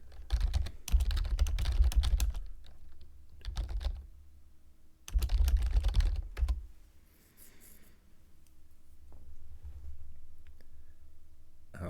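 Typing on a computer keyboard, close and clattery, in a few fast bursts of keystrokes separated by quieter gaps, with no talking.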